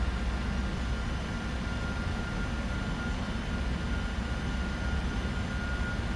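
A Boeing 747-400 coming in to land on autopilot in the PMDG flight simulator, its engine and airflow drone a steady, loud broadband rumble throughout with no voices.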